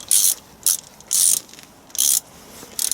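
A ratchet tightens the rocker cover bolts on a Land Rover Defender TD5 engine, making bursts of fast, close metallic clicking with short pauses between strokes, alone without talk.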